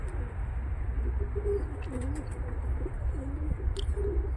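Racing pigeons coo softly and repeatedly after landing from a long special race flight, their low warbling calls rising over a steady background rumble, with a few faint high chirps scattered through.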